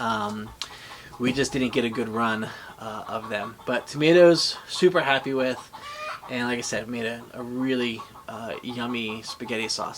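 Backyard chickens cluck steadily in the background, with continuous soft fowl calls sitting beneath someone talking close to the microphone throughout.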